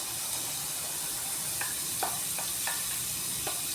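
Garlic frying in a small amount of oil, a soft, steady sizzle and hiss close by, with a few brief scraping stir sounds.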